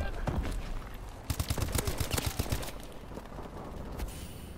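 Rapid bursts of HBR assault rifle fire in the game Call of Duty: Advanced Warfare, loud and close, with a dense volley of shots in the middle and scattered shots around it.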